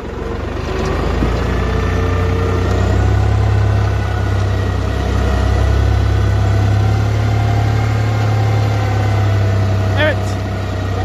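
A New Holland T480 S tractor engine drones steadily and loudly while climbing uphill in reverse, a low rumbling strain with a voice talking faintly beneath it.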